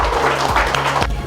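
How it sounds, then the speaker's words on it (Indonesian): Audience applause at a live storytelling talk event, a brief dense wash of clapping with some faint voices mixed in. "beri tepuk tangan sekali lagi untuk cerita Bang Jo"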